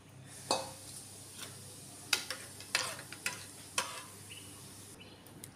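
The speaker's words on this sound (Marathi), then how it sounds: "तूप आपलं गरम झालेलं आहे, ते आपण जी प्युरी काढली होती ती घालून घ्यायची।" Drumstick puree hits hot ghee for a soup, giving a soft sizzle broken by sharp scraping stirs and clicks of a spoon against the pan, spaced irregularly and close, with no talking.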